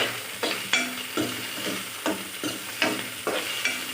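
Unpeeled onions fry in hot oil in a pan for dosa chutney, a steady sizzle broken by several sharp stirring scrapes at irregular intervals, close and fairly loud with no voices.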